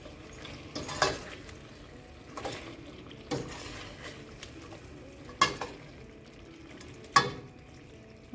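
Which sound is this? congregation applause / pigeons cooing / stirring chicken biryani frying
stirring chicken biryani frying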